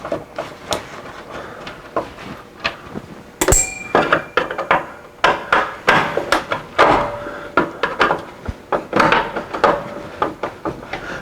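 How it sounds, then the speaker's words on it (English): Screws being backed out by hand from the plastic cover of a squirrel cage blower fan on a Suburban furnace, with close, irregular clicks, taps and rattling knocks of the screwdriver and parts. "Just get these 4 screws out of this squirrel cage fan"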